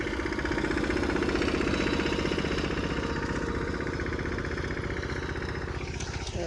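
A Yuvraj tractor runs in gear through a cotton field, its engine giving a steady, close, rhythmic chugging that holds at an even loudness for the whole stretch.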